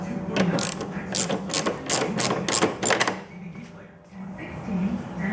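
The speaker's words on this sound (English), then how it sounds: "I'm going to start by taking out the screws for the hold open cables." A ratchet backs out screws on a 2014 Polaris 570 Sportsman ATV, producing a close, steady run of clicking pawl strokes for about three seconds, then quieter handling noise.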